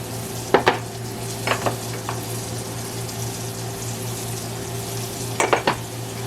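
Shallot cooking in melted butter in a pan: a low steady sizzle runs throughout, broken by a few sharp scraping and clinking stirs near the start and again toward the end, with no talking.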